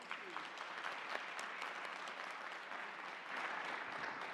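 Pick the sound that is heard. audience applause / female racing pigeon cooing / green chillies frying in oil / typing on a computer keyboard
audience applause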